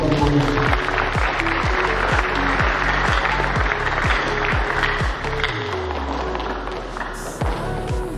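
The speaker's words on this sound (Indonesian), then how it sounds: "mari kita beri aplaus untuk Bu Mita." Audience at a university public lecture on animal husbandry clapping together in a hall, a sustained round of applause that slowly thins out, with a voice speaking over it on a microphone.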